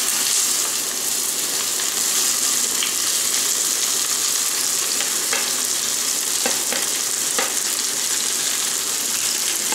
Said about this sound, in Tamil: வெண்டைக்காவை மட்டும் இப்போ நம்ம எண்ணெயில் வந்து வதக்கி எடுத்துக்க போகிறோம்